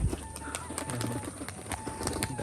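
Rajshahi pigeons, including a male, coo and call in short bursts with occasional wing flutters, fairly close and moderately loud against a busy background, with no talking.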